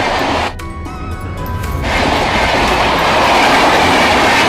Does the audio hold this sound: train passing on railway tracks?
yes